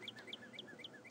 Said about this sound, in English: Birds are annoying.